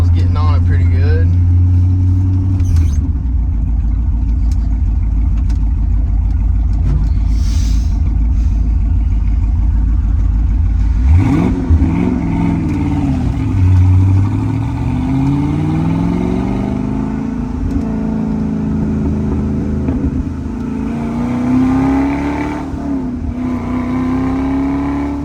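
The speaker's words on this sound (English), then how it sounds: "Exhaust sounds great. Gives it that mean little rumble." A 1965 Ford Mustang Fastback's 289 V8 rumbles deep and loud, idling low before revving up and changing pitch through the gears, with someone talking over the engine at times.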